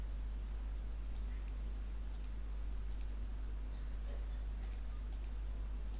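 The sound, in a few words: computer mouse clicking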